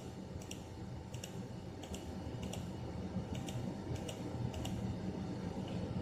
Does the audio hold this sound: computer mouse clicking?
yes